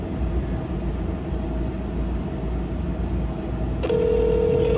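A phone line connecting while dialing the 911 emergency hotline from a TM mobile: steady hiss of line noise, then a clear sustained tone begins near the end, loud and close.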